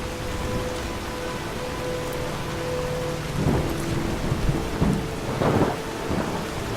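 Steady heavy rain pours in a video game world, with low rumbles of thunder rolling in through the second half, continuous and fairly loud with no talking.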